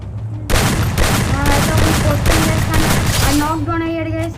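Rapid gunfire and a grenade blast in a shooter video game, loud bursts of shots over a sustained background, with a person talking over the action.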